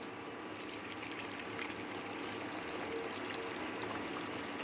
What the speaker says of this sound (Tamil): இப்போ நம்ம இதில் தண்ணி மிக்ஸ் பண்ணி நல்லா கொதி நிலைக்கு விடணும்